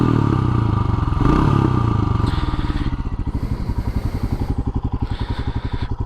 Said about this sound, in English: You know how horrible stock exhaust is.